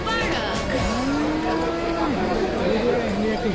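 A cow just bought at night at the Shahjahanpur cattle market for Qurbani lets out a long, drawn-out moo, close and clear, over a busy background of crowd chatter and murmur.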